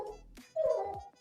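A pet dog whimpering and yipping up close, a short whine followed by a longer, rising, drawn-out cry, heard alone without talk.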